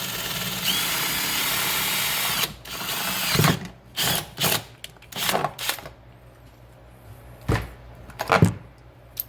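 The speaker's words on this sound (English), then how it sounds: "drill a hole through the second end" A loud continuous power-tool whine gives way to several short bursts of drilling with pauses between, close by, while building a 48V lithium battery pack, no talking.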